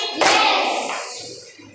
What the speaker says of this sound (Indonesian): Tepuk satu kali.